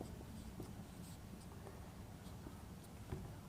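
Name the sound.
writing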